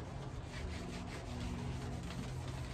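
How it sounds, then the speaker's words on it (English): A hand tool scrapes stripped paint off camper aluminum with steady, close, rhythmic rasping strokes that continue without a break. "now I'm in the process of pulling the plastic back and starting to scrape it"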